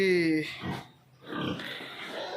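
A nearly human-length pig on a Telangana pig farm lets out a few harsh grunts and squealing snorts at close range, with short pauses between them.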